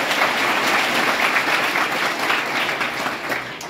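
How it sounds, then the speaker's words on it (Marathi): Loud, dense applause from a large audience at a spiritual guidance gathering for students, steady and unbroken for the whole stretch, with no voices rising above it. "एकदा जोरदार टाळ्या वाजवा"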